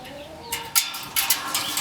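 A few backyard chickens cluck nearby with low murmuring coos, mixed with bursts of rustling and scratching in a short, busy stretch.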